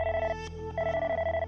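A cartoon telephone rings in two long electronic trilling bursts with a short gap between them, loud and close, with no voices over it.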